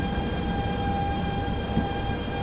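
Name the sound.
BR 187 TRAXX 3 locomotive in Train Simulator Classic video game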